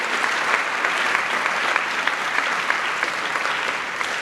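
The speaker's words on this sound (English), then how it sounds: "Can we give them a round of applause just to say thank you?" An audience at a chapel service claps steadily for several seconds, a dense, even patter of many hands at moderate volume.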